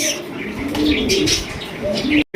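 Mukkhi pigeons cooing close by, several soft throaty coos overlapping with a few chirps in a busy, slightly noisy setting, ending with a brief dropout.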